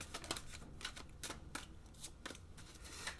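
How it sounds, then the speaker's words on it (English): Tarot deck split into three piles by hand: a run of close, soft papery card slaps and riffling rustles in quick irregular bursts, alone without speech. "And I'm going to be splitting the deck into 3."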